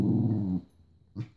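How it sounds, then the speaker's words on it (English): A dog growls during a fight between two dogs: a deep, close rumbling growl for about half a second, a short pause, then a second brief growl. "Is that Cooper growling"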